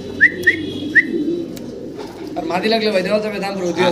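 Racer pigeons coo and whistle in a loft, with a few sharp calls early on followed by warbling coos, while someone talks over them throughout.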